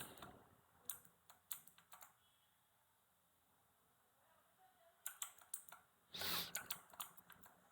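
Computer keyboard typing in bursts of quick clicks, a pause of near silence in the middle, then another run of keystrokes and a louder rustling clatter, quiet and close.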